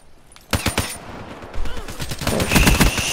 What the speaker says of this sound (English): Hear gunshots behind me somewhere.